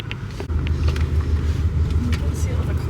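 Cars roll into a large Subaru show with a continuous low engine rumble and passing traffic noise, close and fairly loud, while a person keeps talking over it.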